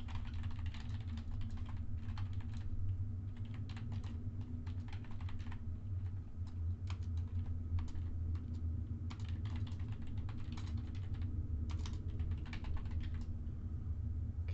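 Keys clatter on a computer keyboard in quick irregular bursts of typing over a steady low hum, close and fairly quiet, with no voices.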